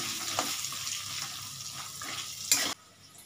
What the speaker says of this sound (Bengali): গ্যাসের আঁচটা বাড়িয়ে নিয়ে আলুগুলো আমি একটু ভেজে নেব